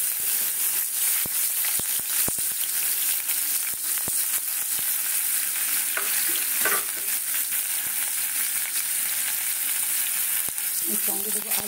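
Onion fries in a pan with a loud, continuous sizzling hiss, punctuated by sharp scraping ticks of a spatula stirring throughout, close and steady.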